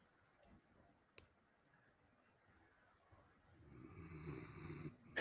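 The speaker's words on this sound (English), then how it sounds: "we're going to watch her Great Dane snoring." A Great Dane snores in a dog video played back, faint at first with a single sharp click, then a louder, rougher breath swelling near the end, heard at a distance.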